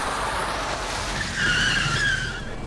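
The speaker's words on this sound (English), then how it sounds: "the already dazzled Salomon, who panicked and pressed hard on the brake" A car brakes hard, its tires skidding in a rising squeal over steady road and engine noise, the screech peaking near the end with no voices.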